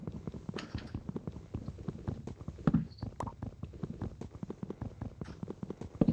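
A horse ridden in the video game Minecraft clip-clops steadily, its close, dry hoof taps coming in a quick, regular rhythm that goes on without pause, with no talking over it.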